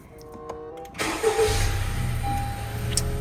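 A car engine starts after a new battery is fitted: a brief starter crank, then the engine catches and settles into a steady, rumbling idle close by.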